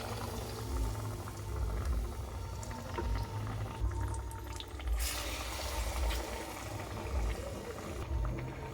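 Batter-coated cauliflower chops lowered into hot oil in a kadai, frying with a dense, continuous bubbling sizzle that holds steady throughout, close by and without speech.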